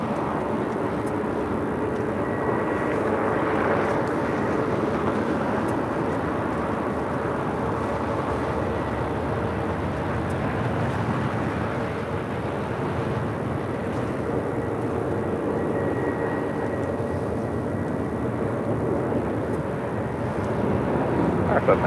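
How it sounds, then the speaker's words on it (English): A United Airlines Boeing 787-9 Dreamliner rolls down runway 25 right at LAX on takeoff, its jet engines making a steady, moderately distant roar that swells slightly toward the end. "It's a 787-9 Dreamliner, already rolling down, 25 right"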